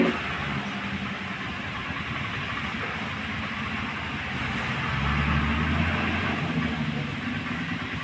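A state transport bus engine rumbles steadily at a village roadside during rain, with a low drone that swells slightly toward the end. It sounds alone for about eight seconds.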